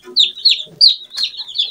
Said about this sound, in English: when you hear this hen answering these crying chicks